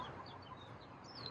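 Several chickens cluck softly and fairly far off, with short, scattered calls running through the whole moment over a steady background hiss.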